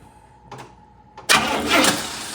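A 1966 Cadillac Eldorado V8 with a freshly reassembled carburetor cranks briefly twice, then catches and roars into a loud, steady run close by.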